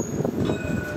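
A tram rolls past on a street in Rabat, a loud, close rumble of wheels on rails with steady metallic whine lines above, continuous through the whole second.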